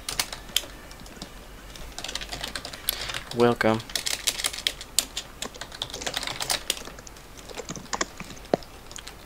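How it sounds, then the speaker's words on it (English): Rapid, uneven clatter of keys on a computer keyboard comes in bursts, close and fairly loud, while a person talks over it. "I'm typing so slow"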